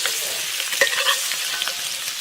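Pork chops sizzle in a pan with butter and thyme while melted butter is spooned over them, giving a steady bright hiss with small spattering pops and light scrapes of the spoon.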